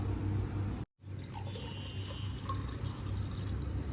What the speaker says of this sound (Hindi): अब इसके ऊपर पानी डाल लेती हूँ